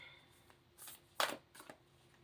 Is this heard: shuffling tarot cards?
yes